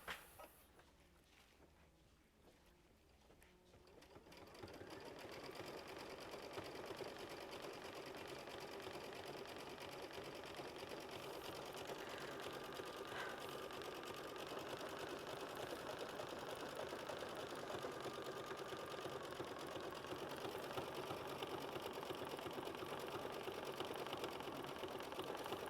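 An embroidery sewing machine stitches out a quilt block, starting after a few seconds of quiet and then running with a steady, fast mechanical needle chatter, close and uninterrupted.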